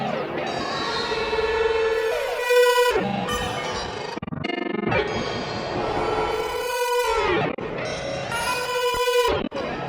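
Shimmering, textured synth tones from a granular effect preset (Output Portal) swell and break apart into grainy fragments, shifting pitch and timbre in evolving waves with brief gaps.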